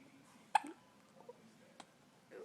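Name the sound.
baby hiccups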